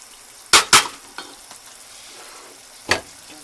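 Onions in a frying pan, cooked until translucent, give a faint sizzle beneath a few sharp spatula scrapes: two close together near the start, then one more a couple of seconds later.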